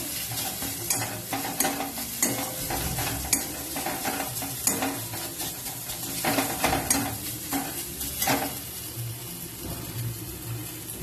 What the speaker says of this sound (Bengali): এরপর আর একটু ভালো করে ভেজে নেব।